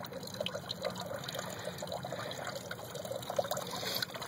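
Water flows steadily from a pump-fed feed line controlled by small stopcocks in a backyard aquaponics system, a continuous trickling and splashing at moderate distance with no voices.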